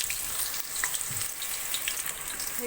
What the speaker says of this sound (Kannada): ಇವಾಗ ಎಣ್ಣೆ ಕಾದಿದೆ ಈರುಳ್ಳಿ ಹಾಕೋತಾ ಇದ್ದೀನಿ